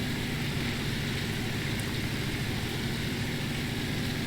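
A Ford tractor idles in Farming Simulator 19, a steady low engine rumble that holds evenly throughout, close and alone with no talking.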